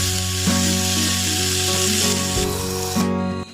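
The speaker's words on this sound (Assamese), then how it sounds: "এইফালে মই তেল গৰম কৰি ভাজি আছোঁ ৰৌ মাছখিনি" Rohu fish frying in hot oil makes a dense, continuous sizzle close by, with a low steady hum and a few soft scraping touches underneath.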